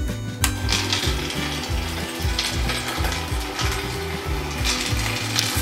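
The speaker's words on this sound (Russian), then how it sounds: "поместили мы наши какао-бобы в ростер. Выставляем 200 градусов, побольше в этот раз, как и обещал. И включаем питание." A cocoa bean roaster set to 200 degrees is switched on and runs with a steady mechanical whir and repeated rattling, ratchet-like clicks, up close and continuous.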